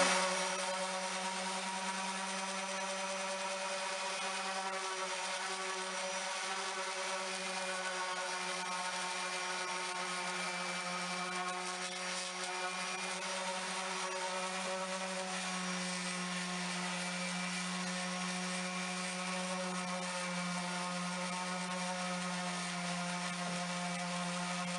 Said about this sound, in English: Even though it's an orbital sander and it's going to rotate the pad, you still want to move in a circular motion